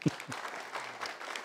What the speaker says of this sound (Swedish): Bara det, en applåd.